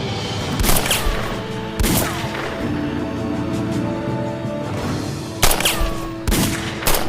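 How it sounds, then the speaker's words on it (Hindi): Gunfire in a TV drama scene: sharp gunshots crack out in scattered bursts over a steady dramatic music bed, loud and close. "अब हमें मिलकर इन पर फायरिंग करनी होगी"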